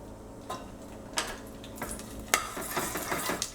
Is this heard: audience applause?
no